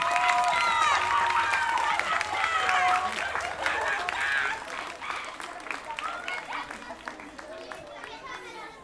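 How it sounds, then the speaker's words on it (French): Applause from an audience honoring school teaching staff at a school in Ychoux: dense, steady clapping that fills the scene and thins slightly after the midpoint, with voices talking and chattering over it throughout. "On peut quand même les applaudir parce que ça fait du bien."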